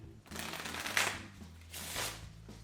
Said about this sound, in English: You tell them to riffle shuffle the deck together.